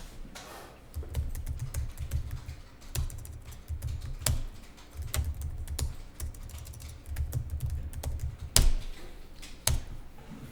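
A computer keyboard is typed on steadily during an accounting software exercise, with quick clattering keystrokes in bursts, some sharper key taps standing out, close up and unaccompanied by talk.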